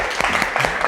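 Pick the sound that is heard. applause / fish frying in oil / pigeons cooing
applause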